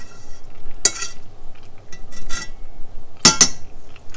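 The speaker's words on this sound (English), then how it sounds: "Stir that around for a bit. Get the flavor into the butter." Garlic stirred in butter in a frying pan, two distinct sharp scrapes and clinks of a utensil against the pan over a faint background hiss.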